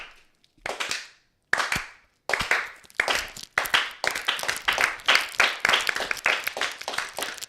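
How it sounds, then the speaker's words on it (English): A deliberately slow clap from about five men, starting with a few sparse, separate claps and speeding up into a steady, fairly close patter of clapping over the remaining seconds. "Y'all want a slow clap one for Mulkey?"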